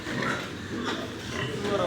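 Pigs on a pig farm in Armenia grunt and oink close by, mixed with someone talking over the noise of the pens.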